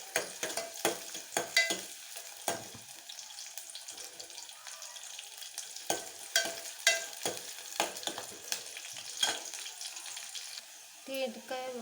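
Onion and curry leaves frying in a pan for a drumstick curry, with a soft hiss broken by repeated sharp scraping and stirring knocks in an irregular rhythm, fairly quiet overall.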